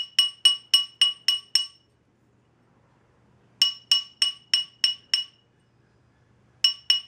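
Hammer blows on a brass ring during ring making, heard as three bursts of sharp, ringing metallic taps about four to six each, with short pauses between bursts and no talk.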